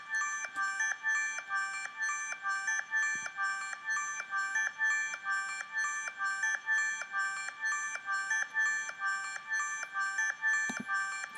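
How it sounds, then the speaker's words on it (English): Delicate bell-like synth layer on an auto filter in a GarageBand production, a soft, rapid, evenly repeating chime pattern that pulses steadily throughout without any voices. "This is the delicate bells that I've been telling you about."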